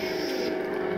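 A 7-in-1 oxygen skin care machine, model LS-NS11, runs with a steady mains-like hum and a constant tonal drone, close and even throughout.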